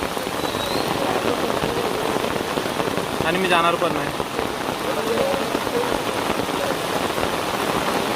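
Heavy rain falls hard and continuously near a high bridge under floodwater, a loud close patter on surfaces while someone speaks briefly over it.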